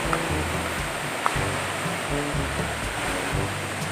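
The tallest waterfall in Bohol, at Can-umantad in Candijay, roars as a constant loud rush of falling water, dense and unbroken throughout, with a single faint click and no voices.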